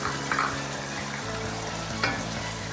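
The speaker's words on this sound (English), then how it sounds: "I'm going to now check it on the mincemeat. Oh, look at that, it's bubbling" Mincemeat bubbles and sizzles in a pan on the stove, a constant close crackle with soft pops and a couple of brief scraping stirs, no voices.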